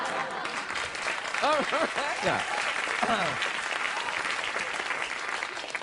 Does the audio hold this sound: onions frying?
no